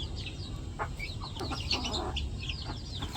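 Chickens clucking softly as they peck at rice in a yard, several short, close clucks and chirps scattered over a low steady background.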